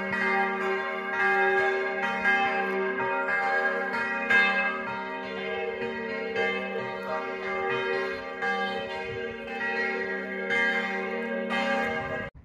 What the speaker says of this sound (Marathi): येथे चर्चच्या घंटांचा निनाद आपल्याला ऐकू येतोय.